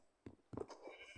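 A short bleat from a sheep nearby, a quick wavering cry over a quiet background.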